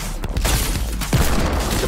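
A lever action shotgun fires in a video game, several loud, close booming blasts in quick succession over continuous game noise, with no talking.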